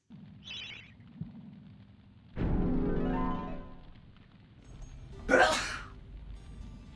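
A single sharp sneeze bursts out near the end, preceded by a quiet voice and a brief rising sound, otherwise mostly quiet, while playing the video game MediEvil.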